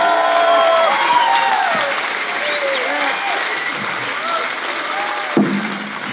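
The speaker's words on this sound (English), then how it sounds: "let's give a huge applause" Audience applause fills a Q&A event hall at a festival in Helsinki, steady and loud throughout, with a brief sharper burst near the end and some voices mixed in.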